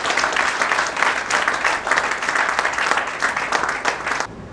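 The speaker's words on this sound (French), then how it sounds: "Et je vous demande une fois encore de les applaudir très fort." Loud, steady applause from an audience honoring ministry officials at a French cultural agenda launch event, dense clapping throughout that cuts off abruptly near the end.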